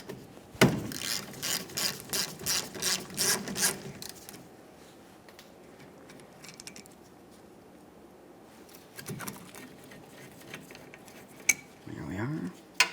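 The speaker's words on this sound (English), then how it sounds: "continue by fully removing the second mounting bolt" On a Chevrolet Silverado 1500, a ratchet clicks rapidly in a quick series of turns while a brake backing plate mounting bolt comes out, followed by quieter metallic handling and a few clinks, close up.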